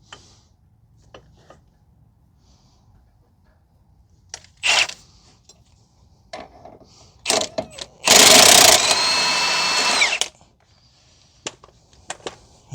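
Inner tie rod on a 2006 Mazda 3 2.0 being loosened with an extended 24 mm deep socket after penetrating oil: scattered metallic clicks and taps, then a loud, steady whirring burst of about two seconds near the end, followed by more light clicks.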